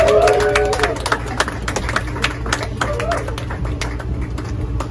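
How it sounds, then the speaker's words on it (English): A comedy club audience applauds comedian Steve Johnston with a continuous burst of dense clapping from a crowd that holds steady throughout, mixed with some crowd noise. "Give a big round of applause right now for Steve Johnston"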